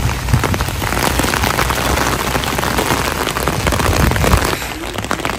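Steady rain pours down at an outdoor festival, a dense hiss of drops striking surfaces close by, continuous and fairly loud with no voices.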